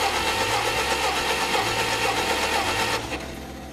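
A cold Allis Chalmers forklift engine cranks over steadily during a compression test, a close, loud, rhythmic churning with regular pulses that drops away sharply near the end.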